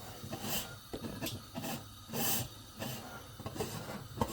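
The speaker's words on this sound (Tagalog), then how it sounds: "Ikot natin para mag-vacuum guys." A Salad Master cookware pot lid is twisted on a pot of paksiw, giving repeated rasping, scraping bursts in an uneven rhythm, close by and moderately loud over a hissy background.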